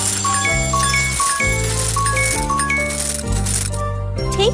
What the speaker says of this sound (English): Collect all the coins.